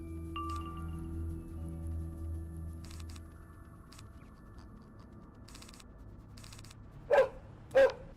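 A dog barks twice toward the end, two sharp, separate barks at moderate distance over a faint background hum.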